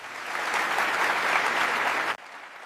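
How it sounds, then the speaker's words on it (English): Sustained applause from a roomful of people, dense steady clapping for about two seconds before cutting off abruptly, leaving only quiet room tone. "Then, someone started clapping."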